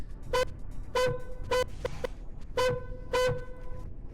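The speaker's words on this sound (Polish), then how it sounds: "Ale mamy klakson." A car horn on a Chinese electric car in the Roblox game Hogaty, Tang County, Hebei, gives five short, evenly spaced honks, clear and moderately loud against faint background hum.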